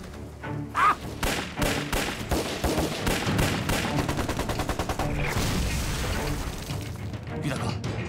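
Sustained gunfire in a Chinese wartime TV drama battle, rapid overlapping shots and bursts loud and dense throughout, with heavy thuds and booms mixed in.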